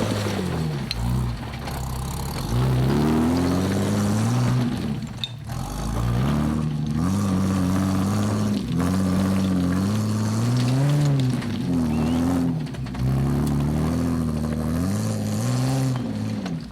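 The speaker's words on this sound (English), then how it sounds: "And with a customary victorious rev, Sean and Chart" A souped-up Jeep Wrangler TJ with two lockers on a rocky 4x4 course revs loud and close, its engine note climbing and dropping in repeated surges that carry through the whole stretch.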